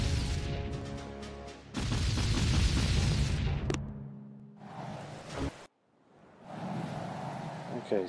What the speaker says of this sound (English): the rocket launchers are going to get to work on him